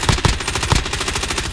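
Rapid automatic gunfire rattles loudly and continuously in a shooter game, with a few heavier shots punching through the burst.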